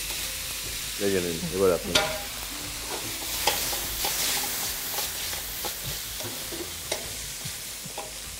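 Capsicum and spring onion are stir-fried in a pan, a continuous sizzle broken by scraping stirs and clatter of the spatula, close and steady, while someone speaks briefly over it at the start.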